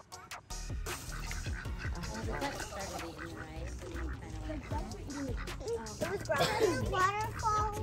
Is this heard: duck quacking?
yes